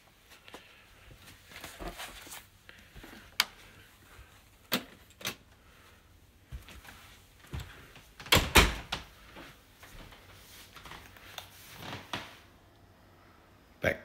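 A door in a house opens and closes between rooms leading to a lounge, giving several sharp knocks and clunks amid scattered handling noises and footsteps, fairly close, with a louder cluster of bangs near the middle.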